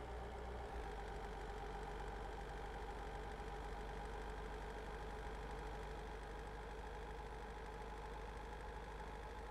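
A truck engine in Euro Truck Simulator 2 hums steadily at a low, even drone with a constant mid-pitched whine, fairly quiet and unchanging, with no talking.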